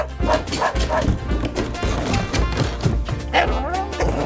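A craft-style toy or imitation dog yaps and barks in short repeated bursts over a busy background with thumps and clatter, with brief voice sounds mixed in.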